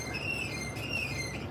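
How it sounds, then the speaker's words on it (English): A dry part on a trailer's axle area squeaks in a thin, wavering high whine, faint and drawn out over low rumbling background noise. "as you hear it squeaking back there, I need to put some WD-40 on it."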